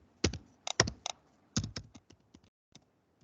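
Keystrokes on a computer keyboard, a quick burst of clustered clicks followed by sparser, fainter taps trailing off, close and clear with no talking.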